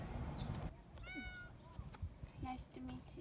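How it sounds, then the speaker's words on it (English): A neighborhood cat lets out several short meows close by, interspersed with soft human voices murmuring in a quiet setting. "I have also befriended the neighborhood cats."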